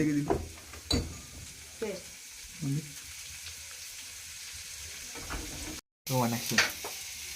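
Onion and carrot frying in a hot pan, a steady sizzle throughout with stirring scrapes and short bursts, and a brief cutout near the end before the sizzle resumes.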